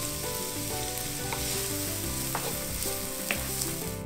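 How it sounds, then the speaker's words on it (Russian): Finely chopped shallots frying in a pan over medium heat for a tomato-based sauce, giving a steady, dense sizzle and crackle that runs the whole time with occasional brighter pops and faint stirring. "Далее на среднем огне обжариваем сначала шалот,"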